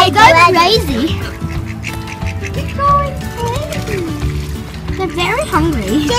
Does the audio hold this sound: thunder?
no